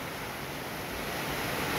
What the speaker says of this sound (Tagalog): Pero ang ulan, parang hindi normal. Sobrang malakas.